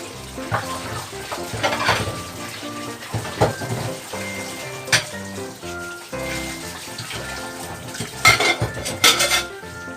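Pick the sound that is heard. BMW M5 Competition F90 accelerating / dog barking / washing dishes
washing dishes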